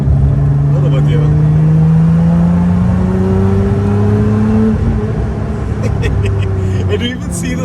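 A Toyota 2GR V6 car engine with a supercharger revs as the car accelerates, its rising tone climbing steadily over several seconds, loud and close from inside the car, with a person talking over the engine.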